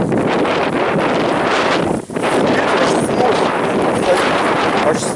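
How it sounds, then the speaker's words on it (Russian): Strong wind buffets the microphone outdoors in a garden plot, a loud, continuous roaring rush with gusting swells and one brief lull, while a person talks faintly underneath. "Ай, ветер."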